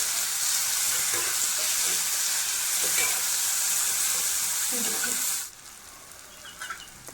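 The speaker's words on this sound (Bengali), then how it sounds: "এরপর আমি পেঁয়াজটিকে ভালো মতো ভেজে নেব।" Onions sizzle and fry in a pan with salt and turmeric, a steady, close hiss with light stirring scrapes that drops away abruptly near the end, leaving quieter kitchen sounds.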